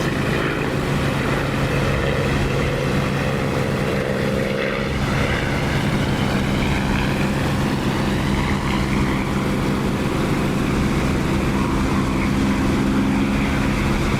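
A propeller aircraft engine drones steadily and loudly in flight in the DCS flight simulator, a continuous, unbroken hum throughout with no voices.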